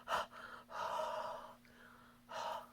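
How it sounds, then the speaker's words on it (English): Someone huffs warm breath onto a rubber stamp's ink to moisten it, giving three soft, breathy exhalations close to the mic with short pauses between them and no talking. "huff on my ink to moisten it back up"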